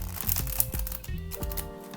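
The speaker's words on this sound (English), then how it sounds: "I'm going to reverse shuffle it now so that you guys can see how it reverse shuffles." Smooth cardstock tarot cards are reverse shuffled in the hands, a run of soft rapid riffling and crinkling flutters close to the listener, with no one talking.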